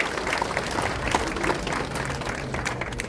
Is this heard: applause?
yes